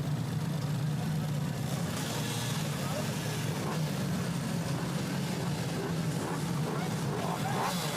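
MiniGP 160 race bikes leave the start of the first race at the Anneville-en-Bourville track, a steady massed buzz of small engines revving continuously at middle distance while a commentator talks over it.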